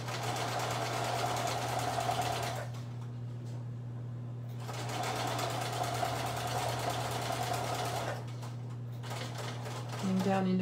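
A sewing machine stitches binding onto a small quilted Christmas wall hanging, a steady close mechanical whirr that runs in two long stretches with short quiet pauses between them and resumes at the end, over a constant low hum.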